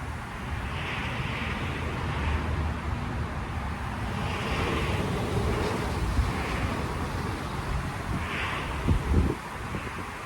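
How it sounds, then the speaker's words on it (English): Steady broadband wind rushing and buffeting the microphone, with gusty swells throughout and no clear voices. "It's extremely windy out."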